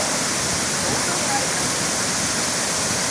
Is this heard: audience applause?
no